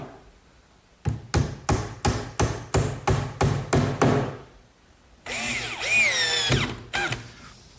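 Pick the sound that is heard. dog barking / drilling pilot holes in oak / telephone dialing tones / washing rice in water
drilling pilot holes in oak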